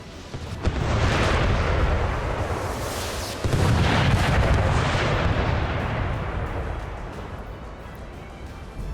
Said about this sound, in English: Lots of rockets incoming.